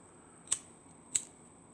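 Scissors make two crisp, close snips about half a second apart, trimming the excess ends of a paracord bracelet in a quiet room.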